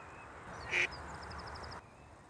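A duck lets out a single short, close quack beside a carp-fishing spot, followed by a faint, rapid series of softer calls against quiet outdoor ambience.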